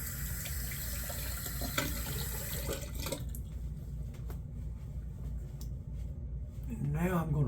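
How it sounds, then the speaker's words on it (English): A tap runs steadily while a razor blade is rinsed at a sink, and the water hiss stays constant and close throughout. Toward the end a voice speaks briefly over the flow. "Okay, let me rinse."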